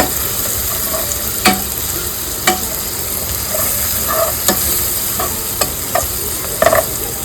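Mutton masala frying in a pan, stirred with a utensil: a steady sizzle underneath and a series of sharp scraping clacks every second or so, close and clear, with no voices.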